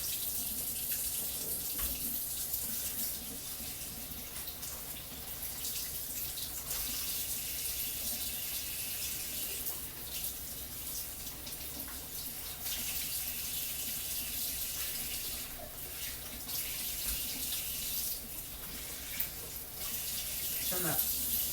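Tap water runs steadily and close by while a largemouth bass is cleaned at a sink, a continuous broadband splashing hiss lasting throughout with small shifts in flow.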